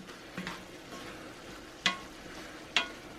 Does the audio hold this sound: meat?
yes